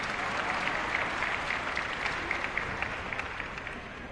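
Steady, fairly distant crowd applause fills a high school graduation ceremony, many hands clapping evenly for several seconds without pause.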